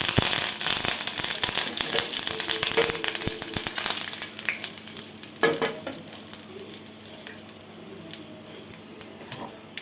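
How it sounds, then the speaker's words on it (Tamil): Mustard seeds and curry leaves hit hot oil for a garlic chutney tempering, crackling and popping loudly up close with sharp bursts and spatter that ease off toward the end. "கடுகு இப்போ போட்டு திரைக்கும் போது கொஞ்சம் நம்ம கருவேப்பிலை போட்டுக்கலாம்"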